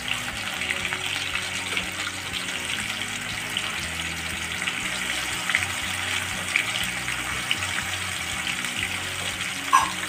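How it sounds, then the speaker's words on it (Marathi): Onion and garlic-cumin paste frying in a pan for a Marathi-style fish curry, a continuous loud sizzle and crackle with faint stirring scrapes throughout, no voices. "कांदा टाकू लसूण जिऱ्याची पेस्ट"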